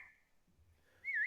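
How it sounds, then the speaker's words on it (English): A person whistles, starting with a short, faint tone, pausing, and then finishing with a louder sustained note that wavers up and down in pitch, against a quiet background. "Little whistle action."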